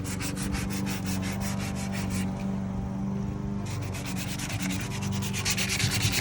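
Sandpaper rubs back and forth across a wooden side table in preparation for chalk paint, a loud, close, rhythmic rasping scrub with a brief lighter stretch midway before the strokes resume.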